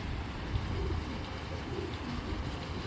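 A Napta Giribaz pigeon, a red-eyed hen, gives soft, low cooing calls in short repeated bursts, faint and close against a steady background hiss.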